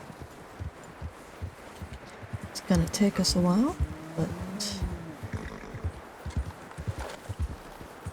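Horse hooves clip-clop at a walk through a blizzard in the mountains in Red Dead Redemption 2, a steady soft rhythm beneath a man's speech and wind.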